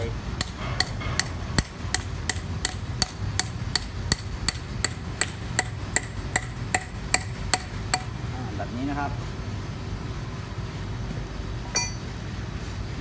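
Rapid, evenly spaced hammer strikes on metal anchors being driven into holes in the ground to install a rubber speed bump, about twenty sharp blows over several seconds, then they stop, leaving a low background hum and a faint clink.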